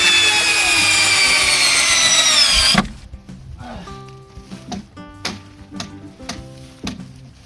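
A power drill drives screws joining a 2x4 to cattle panel for a DIY greenhouse: a loud, close motor whine for about three seconds, then stops, followed by scattered clicks and taps.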